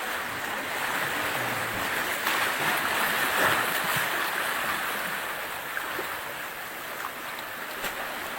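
Large sea waves surge through a coastal sea tunnel in deep, churning water, a constant loud wash of surf and spray with faint wind, no voices heard.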